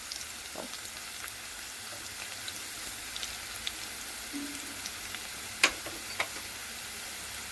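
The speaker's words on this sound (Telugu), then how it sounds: "ఆనియన్ కొద్దిగా వేగనిద్దాము" Onions and cashews sizzle in a pan for quinoa prawn biryani, a steady low frying hiss throughout with a few sharp pops and crackles near the end.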